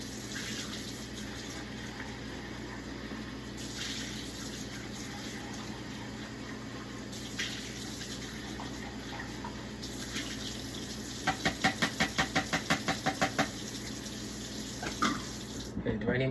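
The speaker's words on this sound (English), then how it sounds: "Here, we'll close this out, or pour down the drain." Liquid poured down a sink drain in a chemistry lab, a continuous running splash lasting throughout with a steady background hum, a burst of quick rhythmic clicks midway, and a voice speaking over it.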